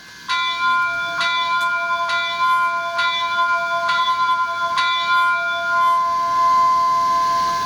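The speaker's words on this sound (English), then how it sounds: "Function 1 is the bell." A model steam locomotive's bell function on an HO-scale Rapido Royal Hudson rings at a steady, even pace, about six clear metallic strikes with ringing tones that sustain and overlap, loud and close with no voices.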